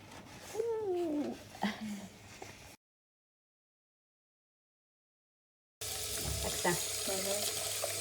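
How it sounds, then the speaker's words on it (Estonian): Tap water runs onto aquarium plants being rinsed under a faucet at a sink, a steady broadband splashing flow heard in two stretches separated by a silent gap, with faint background sounds. "Kui taimedele on kogunenud palju musta vetikat, viime kraani alla ja nühi karjaga vetikat vähemaks."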